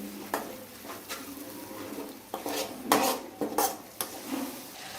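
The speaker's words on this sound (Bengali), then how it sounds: "এবার সব মশলাগুলোকে ভালোভাবে কষিয়ে নিয়ে দেবে" A metal spoon stirs and sautés spices with turmeric in a pan, with irregular scraping, clanking and clinking against the pan nearby and a faint fry underneath.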